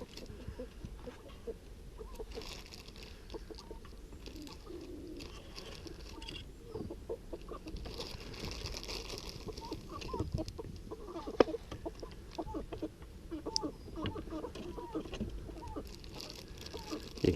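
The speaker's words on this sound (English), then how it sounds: "You can hear the birds inside." Chickens, a flock of about fifteen, cluck steadily inside their coop in the morning, a faint, busy patter of calls muffled by the walls, with occasional louder squawks and no talk.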